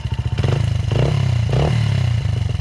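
A Honda CRF 80F dirt bike engine idles close by with a fast, even putter and slight rises in pitch, loud and without talk.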